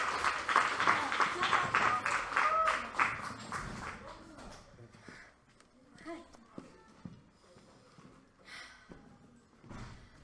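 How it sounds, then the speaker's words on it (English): Crowd at a Bronx youth poetry slam claps for a poet coming to the microphone, a burst of steady applause fading after a few seconds into footsteps, thumps and murmuring voices. "Clap as Shira comes to the microphone"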